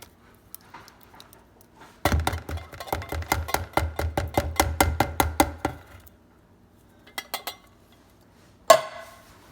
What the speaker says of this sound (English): I'm going to add 1 can of cream style corn